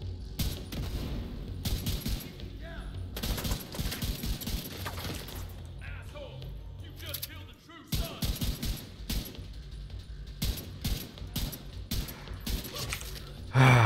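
Bursts of rapid gunfire crackle in The Division 2, with sharp clustered volleys separated by brief quieter gaps, and a voice talks over the action.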